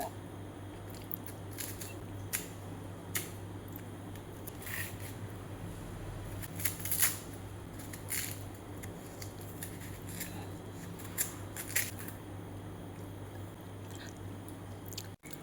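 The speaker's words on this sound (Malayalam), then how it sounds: "അതിൻ്റെ തൊലി ആദ്യം ഒന്ന് പൊളിച്ചെടുക്കുകയാണ്" Skin being peeled off raw plantains for banana chips, heard as close, quiet scraping and snapping crackles coming in irregular bursts over a steady low background hum, with no talking.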